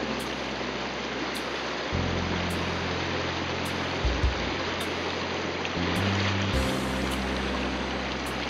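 Riffly water of South Boulder Creek rushing over stones, a steady broadband wash close by, with intermittent low rumbling handling noise from the recorder but no voices.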